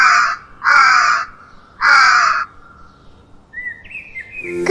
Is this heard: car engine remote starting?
no